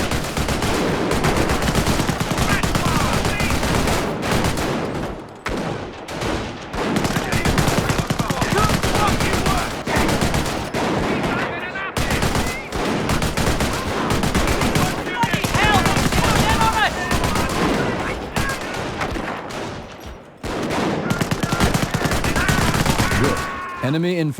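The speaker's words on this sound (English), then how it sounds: "An MG emplacement is an excellent defense against attacking infantry." Machine gun emplacement firing in Company of Heroes, dense sustained bursts of automatic gunfire with other battle noise, loud and close, broken by a few short pauses, with game voices heard now and then.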